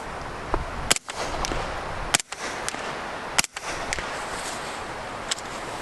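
A suppressed 9x19 submachine gun fires three spaced, muffled cracks, each with a short ringing tail, over a steady noisy background with a fainter pop near the end.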